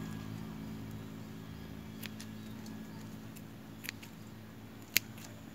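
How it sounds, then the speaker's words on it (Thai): Scissors snip through basil stems and leaves while cuttings are prepared for rooting in water: a few quiet, sharp clicks spaced seconds apart over a faint, steady background hum. "ใช้กรรไกรเร็วกว่า"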